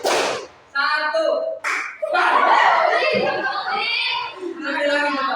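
A class claps hands in a clap rhythm game, sharp grouped claps mixed with voices chanting and talking over them.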